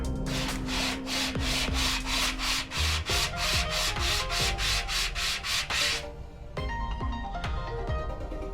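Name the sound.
sanding crankshaft journal with 800 grit paper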